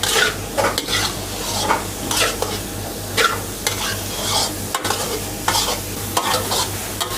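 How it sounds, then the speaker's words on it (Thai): Carrots with garlic and onion stir-fried in a pan, a steady sizzle under repeated scraping strokes of a utensil at an even rhythm, close and fairly loud throughout. "ค่อยค่อยผัดไปเรื่อยๆ"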